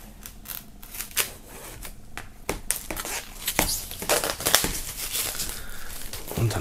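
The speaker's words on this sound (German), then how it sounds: "Wir starten mal mit der Vinyl, werden das Ganze mal aus der Folie holen." Vinyl record being freed from its plastic shrink wrap: close, irregular crinkling and tearing of thin plastic film with sharp crackles and handling noises, growing busier toward the end, with no talking.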